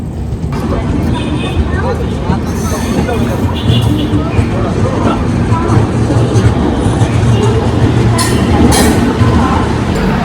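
The Pondicherry Howrah SF Express pulls into Tirupati station in the evening, a loud continuous rumble of rolling carriages with speech and crowd murmur mixed in close by.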